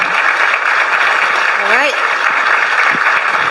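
Audience applause at a panel discussion event fills the whole stretch as a steady, dense clatter of clapping, with a voice briefly speaking over it.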